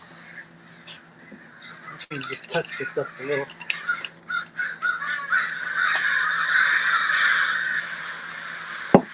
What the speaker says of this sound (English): Can you hear those crows?